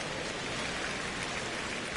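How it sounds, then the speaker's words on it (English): Steady rain pours down in the baseball video game MLB The Show 25, a dense, even hiss of drops hitting surfaces throughout, with no voices. "It feels like we might be headed towards a rain delay if the weather doesn't ease up, Chris."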